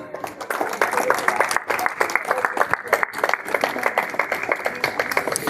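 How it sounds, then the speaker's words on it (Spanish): Congregation applauding in church, loud close sharp claps in a dense, uneven burst that holds steady for several seconds with no talk. "Démosle un fuerte aplauso al Señor."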